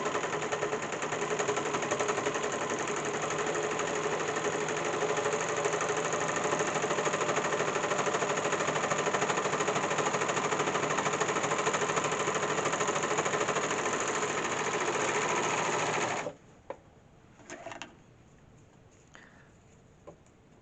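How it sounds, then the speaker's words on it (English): A serger overlocker trims and stitches a fabric edge, whirring loudly and continuously for about sixteen seconds before stopping abruptly, followed by a few faint handling clicks. "but the serger will cut those off for me"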